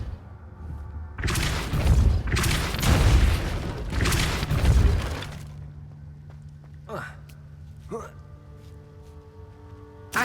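Depulso spell effects from the game Hogwarts Legacy: three loud, broad whooshing blasts in quick succession, each about a second long, followed by quieter, brief swishes over a steady low musical drone.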